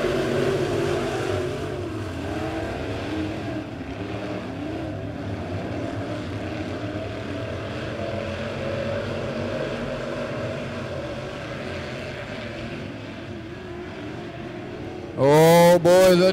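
Race cars at Bolivar Speedway roar around the oval under green flag racing, a steady dense engine drone that holds throughout, with a louder, nearer car sweeping past in a sharp rising whine at the very end.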